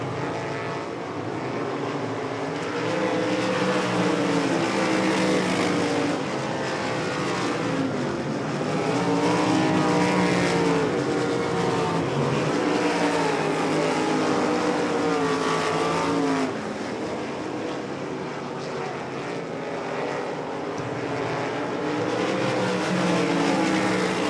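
Race cars roaring around the oval at Devil's Bowl Speedway, a loud continuous engine drone that rises and falls as the pack passes, with no talking.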